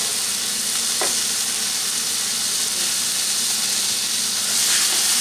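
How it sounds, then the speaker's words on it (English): Beef braising in beef stock in a Curtis Stone grill pan, a loud, steady hiss of bubbling and sizzling liquid with an occasional clink, no voices. "Now it's starting to boil right there."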